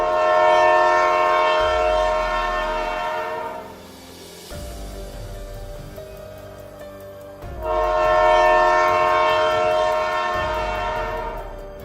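A cartoon train runs loud and steady with a dense, droning rumble, swelling, dipping midway, then surging again; no one speaks.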